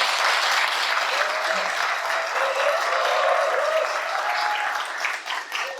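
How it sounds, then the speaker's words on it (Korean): Audience applause fills a Rotary district gathering hall, steady dense clapping from a crowd that continues throughout and thins slightly at the end. "박수 치시나요?"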